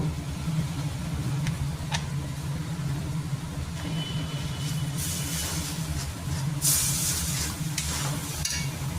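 Chicken fries in a pan as turmeric is added, giving a steady close sizzle with scraping stirs and brief bursts of louder crackle near the end.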